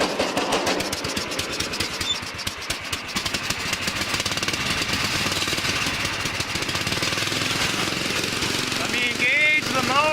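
A 1989 Sears lawn tractor runs with its mower deck engaged, its loud, close engine chugging with a rough rapid pulse and a rising whir as the blades spin up, while a voice talks over it.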